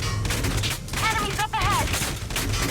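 Machine gun fire from Valkyria Chronicles 4 rattles as a dense, continuous burst of noise through the whole stretch, with brief tonal game effects layered over it midway and no clear gaps between shots.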